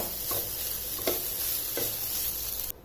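Grated fresh coconut roasts in a pan over a medium flame, a soft steady sizzle broken by three brief scraping stirs before cutting off abruptly.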